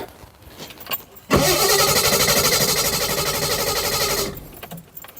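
A neglected 1972 Triumph 2000 Mk2 engine, unstarted for 20 years, cranks and catches, roaring to life loudly and running steadily for a few seconds before cutting off.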